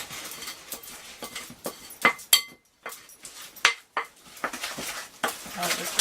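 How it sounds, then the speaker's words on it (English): Malt loaf batter stirred in a mixing bowl, a spoon knocking and scraping against the sides in uneven bursts with brief pauses, close and fairly loud. "Give this a good mix through."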